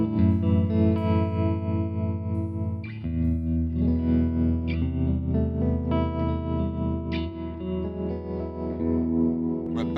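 Electric guitar played through a Supro Black Magick Reverb combo tube amp with its all-tube tremolo engaged, sustained chords and notes pulsing with a wavering, effected tone, loud and close with no talk over it.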